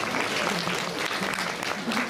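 An audience at the Turtle Talk show in Tokyo DisneySea breaks into brisk, close applause, dense many-handed clapping lasting a couple of seconds with light voices underneath.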